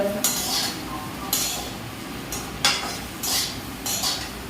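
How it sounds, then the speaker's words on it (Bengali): Potatoes sizzle in a hot pan while a utensil scrapes and stirs in several short bursts, close and fairly loud. "আগে ভাজাটা করে নিই"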